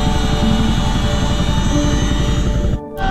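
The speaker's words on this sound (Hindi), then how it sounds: "एयरपोर्ट पर हमारे हेलीकॉप्टर को लैंड करने से पहले" A helicopter coming in to land at an airport in Sikkim, its rotor chop and turbine drone loud, close and steady throughout, briefly dipping near the end.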